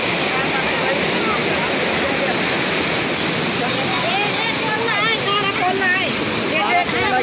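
Rushing water of the Beas river in monsoon flood, a loud continuous roar with churning splashes, with voices talking over it throughout.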